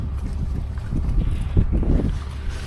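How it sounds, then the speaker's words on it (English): Cool breeze blowing outdoors on a farm, a steady low rushing with gusty buffeting against the microphone that swells in the middle and eases off, no other clear sounds on top. "here in the shade with that wind blowing, it's a little cool"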